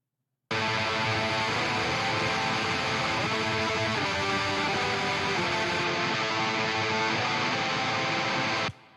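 A thick, saturated metal electric guitar through an ENGL amp impulse response chugs steadily for several seconds, dense and loud with no pauses, then cuts off abruptly.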